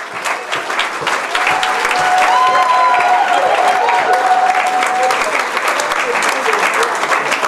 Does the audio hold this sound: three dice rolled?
no